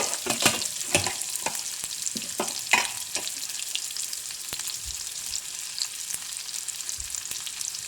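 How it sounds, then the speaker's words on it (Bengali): Chopped onion frying in a pan, a steady, close sizzle with clattering stirs and utensil knocks that are busiest early on, then an even hiss that continues to the end. "এতে এবার পেঁয়াজ কুচি ভালো করে ভেজে নেব।"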